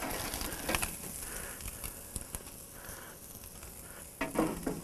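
Pre-cooked ribs sizzle over an open flame as fat drips and burns, giving a steady crackling hiss with sharper pops and spits now and then, heard alone without talk.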